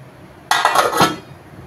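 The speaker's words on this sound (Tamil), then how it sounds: "தட்டை போட்டு மூடிடும்." A metal plate is set over a pot of simmering drumstick and prawn kulambu as a lid, giving one brief, bright clattering clank in a quiet kitchen.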